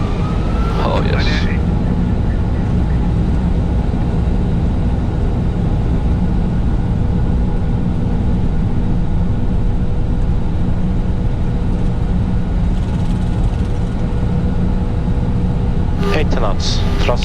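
Boeing 747 engines spooling up to takeoff thrust, heard from inside the cockpit as a loud, constant broadband roar with a steady low rumble that fills the whole stretch, with brief higher clicks near the start and end.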